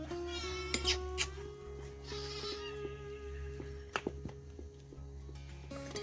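A cat meows a few times near a wood-fired stove, short high calls over a steady low hum and some clattering nearby.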